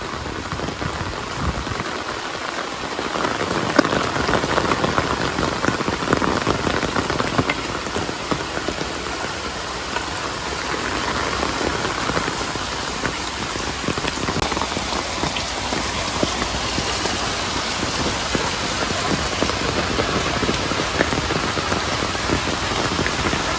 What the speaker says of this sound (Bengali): এই যে দেখেন এত বৃষ্টি হইতে আছে, খালে পানি ভরে গেছে বৃষ্টির পানিতে।